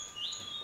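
A bird in an indoor room gives a short, rising tonal call over a steady background hum, close and fairly clear, with no voices.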